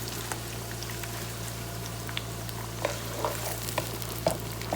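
Peppers frying in a stew pot for an African vegetable stew, a soft continuous sizzle with scattered light crackles and occasional stirring clicks, no voices.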